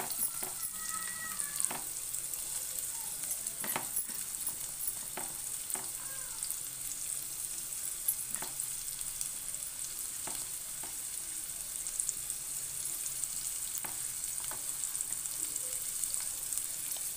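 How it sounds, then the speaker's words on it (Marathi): Onions fry in oil for a prawn curry, a steady, even hiss of sizzling that runs for a long stretch, punctuated by occasional faint ticks and clicks of utensils, moderately quiet and with no speech. "कांदा टाकतोय, कांदा लालसर होईपर्यंत"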